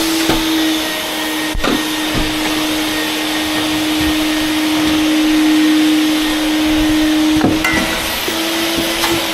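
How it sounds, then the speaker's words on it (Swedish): A vacuum cleaner runs continuously behind the scenes of a prep session, loud and close, with a steady motor whine and a few knocks and bumps. "Jag stänger av dammsugaren nu väl."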